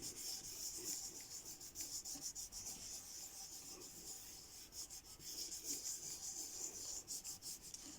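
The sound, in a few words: smoothing paper over a leaf to transfer a print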